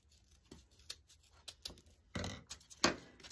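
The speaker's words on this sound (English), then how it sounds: "then we're going to cut off a piece of our jute rope." Scissors cutting through jute rope give a few quiet snips and fibrous crunches, close but faint, with a couple of sharper cuts near the end and no talk.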